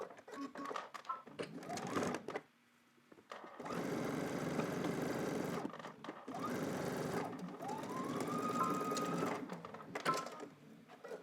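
Sewing machine stitching down a seam on drop crotch pants, running in several sustained bursts of whirring with short pauses between them, close and fairly loud, with no talking.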